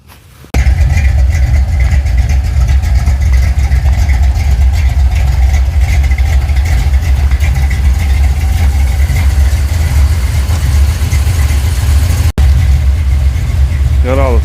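An old Dodge truck engine idles steadily after maintenance, warming up with a loud, constant low rumble close by that holds nearly unchanged from start to finish.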